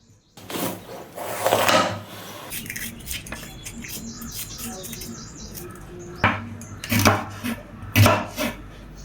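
A knife chops onions and bell peppers on a cutting board in irregular bursts of sharp knocks, close by, with some clattering of kitchen items between strokes.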